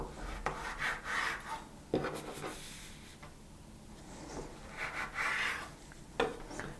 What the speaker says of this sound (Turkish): Ortadan ikiye tekrar kesiyorum. Bu kestiklerimi de ortadan ikiye kesiyorum.